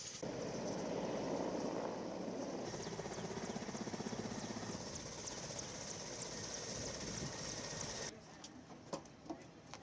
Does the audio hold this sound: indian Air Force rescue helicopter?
yes